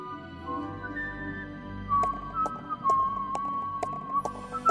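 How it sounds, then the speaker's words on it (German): A light whistled tune plays over footsteps tapping in a steady rhythm, as if someone descends stairs while whistling. "Und so kam der böse kleine Professor Lunatic pfeifend die Treppe hinunter."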